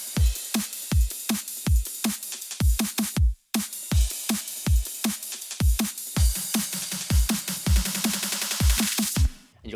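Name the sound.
electronic remix drums: kick, snare, hi-hats and ride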